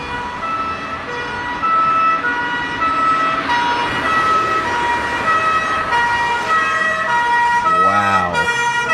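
German fire trucks pass with their two-tone sirens wailing loudly over road traffic noise, the siren pitch sweeping as the vehicles move, with a rising electronic wail near the end.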